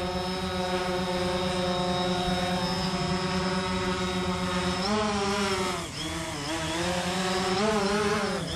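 A small drone hovers nearby with a steady, loud buzzing whine and strong harmonic drone, pitch wavering and dipping near the end, flown over water during a red tide fish kill.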